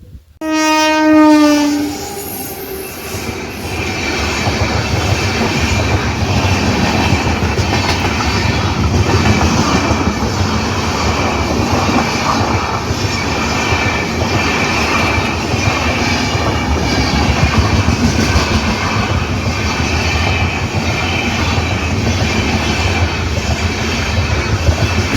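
A train passes a Kampada railway level crossing: a loud horn blast opens, then the steady rumble and clickety-clack of wagons rolling close by, with faint wheel squeal, continuing without pause.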